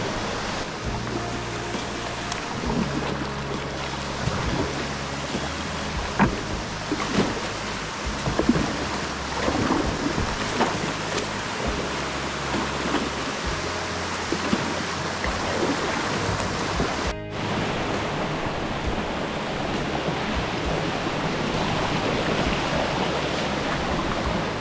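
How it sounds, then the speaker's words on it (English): Waterfall on the Bluestone River roaring steadily at close range, a dense, unbroken wash of rushing water that fills the whole stretch with no talk. "You see that waterfall?"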